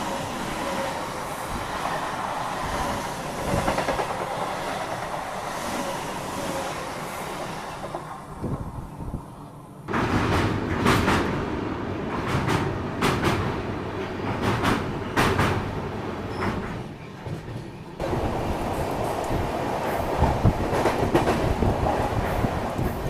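An Indian passenger train approaching Santragachi Junction rumbles along the rails, with rhythmic clickety-clack and clanking wheel impacts rising and falling as it runs, heard from inside a first-class AC cabin.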